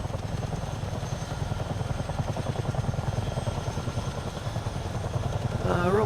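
Low-flying aircraft engine in Microsoft Flight Simulator drones steadily with a throbbing, rotor-like pulse, loud and constant, rising slightly near the end as a voice begins to speak.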